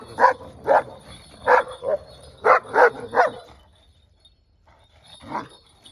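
A single dog barks sharply several times in quick succession, close by, then goes quiet before one last bark.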